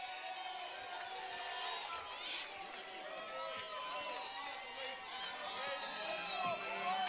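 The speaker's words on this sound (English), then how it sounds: "you can bet every UCLA fan here is cheering hard for the Aggies" Crowd at a 2021 NCAA water polo semifinal between USC and UC Davis cheers loudly and steadily, with whoops and shouts in a busy pool arena and many voices layered over the noise.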